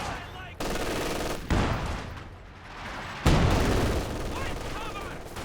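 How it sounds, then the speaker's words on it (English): An artillery barrage in the Company of Heroes 2 strategy game, with sudden loud booming bursts and rattling gunfire arriving in separate waves, mixed with battle noise and a voice talking over it. "Here comes this barrage."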